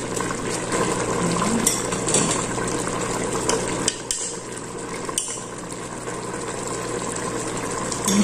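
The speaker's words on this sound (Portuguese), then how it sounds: "Agora eu vou pingando água assim aos pouquinhos" Water dripped a little at a time into a hot pressure cooker pan holding chicken thighs and Tuscan sausage, a steady sizzling hiss with occasional sharp pops and clinks, close and continuous.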